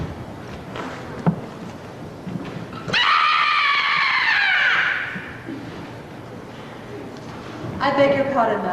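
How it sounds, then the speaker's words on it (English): A loud, sustained scream lasting about two seconds rises abruptly out of dialogue from a scene in The Wizard of Oz, then fades, with speaking voices before and after it. "Did you scream?"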